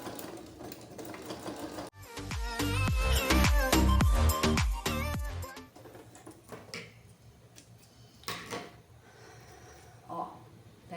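A sewing machine stitches a zipper into a curved garment piece, running in a steady loud burst of rapid mechanical clatter for a few seconds, then stopping into quieter handling noises and clicks.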